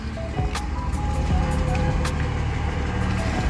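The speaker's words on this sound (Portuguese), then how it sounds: "Chegou o caminhão aí, ó. O caminhão bomba e o caminhão botoneira." Concrete pump truck and concrete mixer truck arriving at a house for a slab pour, heavy diesel engines rumbling steadily close by with a few clanks and short tones over the top.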